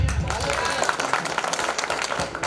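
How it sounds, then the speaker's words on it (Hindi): Audience applause at a Hindi kavi sammelan poetry gathering, a dense wash of clapping mixed with crowd noise and some voices, steady and fairly loud throughout. "तालियां।"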